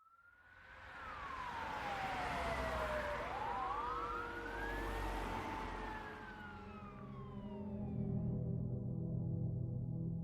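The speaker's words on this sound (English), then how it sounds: "police cruisers, and an ambulance roared through the small town of Innisfail" Several emergency vehicle sirens from fire trucks, police cruisers and an ambulance wail and sweep in pitch together, loud and sustained as they race through a small town, with engine rumble underneath.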